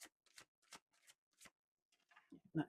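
Tarot cards being shuffled in quick soft riffles and slides, several separate brushing bursts in a quiet room, ending with a brief louder clack.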